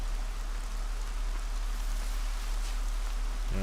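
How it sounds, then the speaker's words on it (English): Random rain falls in Horizon Zero Dawn, a steady, even hiss that carries on unbroken throughout with no talk over it. "Love the random rain as well."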